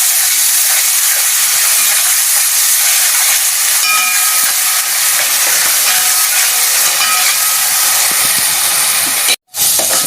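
Spice paste for stuffed brinjal curry (gutti vankaya) fries in a pan with a loud, continuous, close hissing sizzle that breaks off for a moment near the end.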